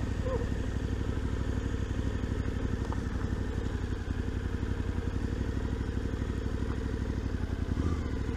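Suzuki V-Strom 800DE motorcycle with a 776cc engine pulling hard under acceleration, a steady, dense engine drone with rapid firing pulses held at a constant loud level throughout.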